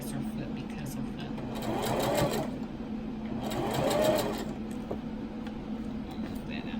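A sewing machine stitching a homemade fabric face mask, running in two short bursts of steady whirring hum that rise and fall, close by, with a person talking over it.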